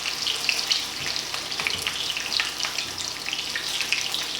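Tilapia fillets fry in a pan with a steady crackling sizzle, dense bright spatter and pops running continuously for several seconds, close and moderately loud, no voices.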